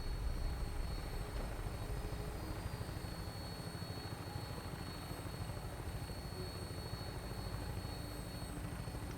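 A vertibird aircraft in Fallout 4 thrums steadily with a continuous rotor chop and engine roar during takeoff, loud and unbroken without any voices.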